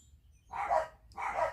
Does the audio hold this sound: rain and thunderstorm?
no